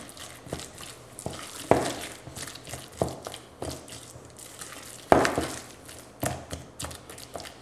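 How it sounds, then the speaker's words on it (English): Chopped onions stirred into homemade guacamole with a spoon, giving repeated soft wet squelches and scrapes with a few sharper knocks against the bowl, close and moderately loud. "I'm going to give those a quick stir"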